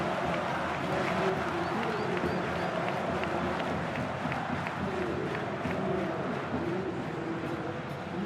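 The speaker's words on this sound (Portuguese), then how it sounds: "A torcida festeja" Football stadium crowd roaring in celebration after a Vasco goal against Grêmio in the 2011 Brazilian championship, a dense, distant, sustained wash of cheering and chanting with a commentator speaking over it.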